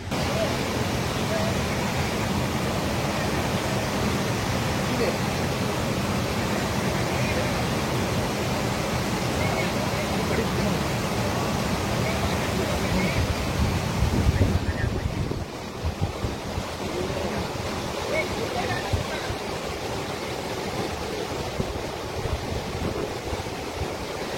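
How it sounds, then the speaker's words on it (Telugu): Steady broadband roar of Malavaragundam waterfall near Tirupati, heard up close and loud throughout, with a brief louder surge midway and no talking. "నగరవనం ఎంట్రన్స్ నుంచి వాక్ చేసుకుంటూ ఇప్పుడు మాలవరగుండం వాటర్ ఫాల్స్కి వచ్చాము"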